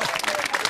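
A brief burst of applause, many hands clapping together in a quick, dense patter.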